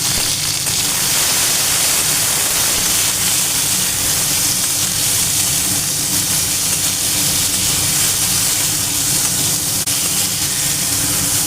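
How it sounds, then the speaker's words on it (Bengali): Ridge gourd slices fry lightly in mustard oil with salt and turmeric in a kadai, giving a steady, loud, close sizzle that never lets up, with no talk. "ঝিঙেগুলো দিয়ে লবণ আর হলুদ দিয়ে হালকা হালকা করে ভেজে নেব"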